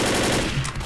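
Short burst of rapid automatic gunfire in the zombie shooter game Left 4 Dead, loud and close, lasting about a second.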